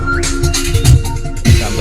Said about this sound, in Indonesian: ini suara audionya, speakernya masih enak sekali